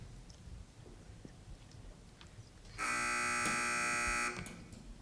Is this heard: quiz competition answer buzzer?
yes